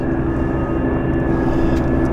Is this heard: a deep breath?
no